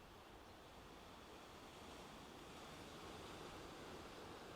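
The ocean surges far below the coastal cliffs of Cornwall, a faint, distant, steady wash of surf with a light wind hiss and no talking.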